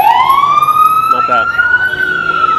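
On a New York City street an emergency vehicle siren wails loudly and close, one long rising tone that sweeps upward and holds, while a person briefly speaks under it.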